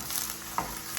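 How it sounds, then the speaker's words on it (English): An egg sizzles in a frying pan, a steady crackling fry up close with a couple of light utensil taps, no talking. "So, place your egg. It sizzles up pretty fast."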